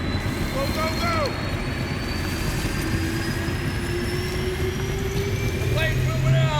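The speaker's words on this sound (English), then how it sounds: "The plane's moving out." A large airplane rolls in the video game Battlefield Bad Company 2, a steady loud engine roar and rumble with a rising whine running throughout, with brief shouted voices over it.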